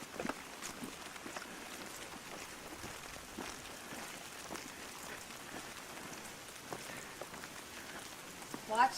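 Steady rain patters outdoors across hard surfaces, a dense even hiss with scattered individual drops, moderately loud and unbroken throughout, with faint footsteps near the end.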